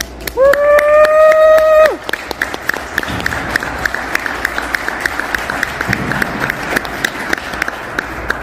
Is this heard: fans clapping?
yes